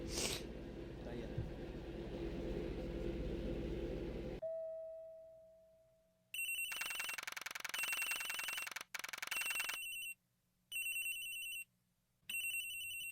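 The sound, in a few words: phone ringing in Ace Attorney video game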